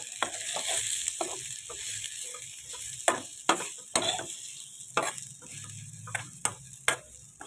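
A spoon stirs a dry stir-fry of avare bean pods (hyacinth beans) mixed with peanut powder and karale chutney in a pan, making soft scraping swishes punctuated by sharp metallic taps against the pan.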